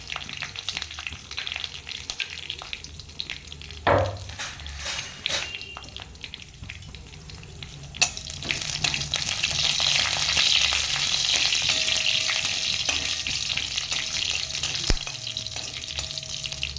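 Curry leaves and whole green chillies with stems hitting hot oil in a pan, a loud continuous sizzle that swells after a few seconds, with brief clinks of a utensil stirring.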